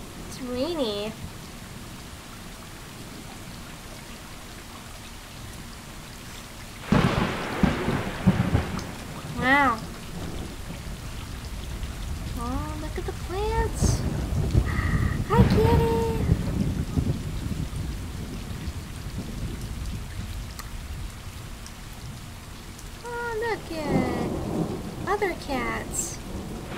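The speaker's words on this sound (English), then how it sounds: "that friggin' thunder is so loud" Steady rain patters throughout while loud rumbles of thunder roll in and out in the video game Stray, with a person talking intermittently over the storm.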